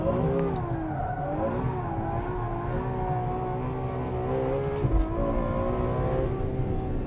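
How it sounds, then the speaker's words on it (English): A Ferrari F12 front-engined V12 GT car howls hard at speed in fourth gear over a crest at about 115 mph, a loud, sustained engine note rising and falling with a brief bump near the end. "F12 leaping over a crest at 115 miles an hour, lighting up the rears in 4th gear."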